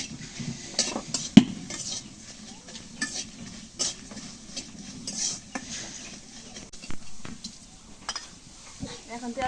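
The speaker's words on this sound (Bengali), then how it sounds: "এখন মরিচ দিয়ে দিই কড়াইতে" Chillies hit a hot wok and are stirred, with scattered scrapes and clinks of utensil against metal over a soft, faint sizzle, close and fairly quiet throughout.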